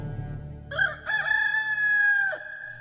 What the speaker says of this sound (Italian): E subito un gallo cantò.